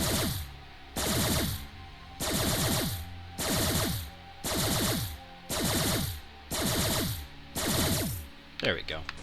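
The mining laser in Metal Arms: Glitch in the System fires in a loud, steady rattling stream that cuts out and restarts about every second, eight long bursts in a row with brief gaps between them.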